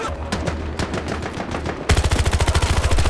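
Automatic gunfire in Battlefield 2042: scattered shots and bursts, then a loud, rapid, evenly spaced stream of rounds from a machine gun in the second half.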